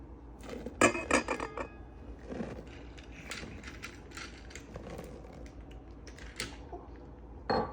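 Flour being stirred into a sourdough batter in a bowl, with irregular scraping and clinking of a utensil against the bowl, several sharper knocks early on, all close and fairly quiet, no talking.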